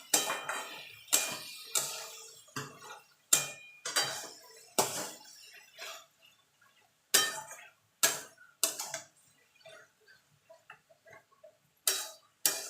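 Water lily stems and fried shrimp stirred in a pan with a spoon, a series of sharp close metallic clinks and scrapes in irregular bursts with short quiet gaps, no talking.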